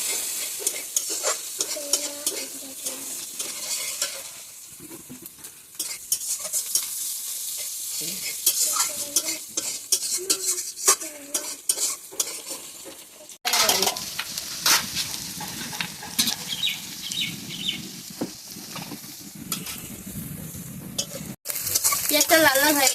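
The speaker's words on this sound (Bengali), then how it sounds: "পেঁয়াজ কুচি দিয়ে দিলাম এবার পেঁয়াজ কুচি অল্প লাল লাল হবে" Chopped onions frying in a pan for a doi kathal prawn dish, a close crackling sizzle with repeated spatula stirring and scraping, pausing and resuming across the stretch, with no one speaking.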